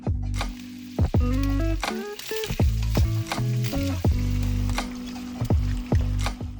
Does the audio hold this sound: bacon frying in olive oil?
yes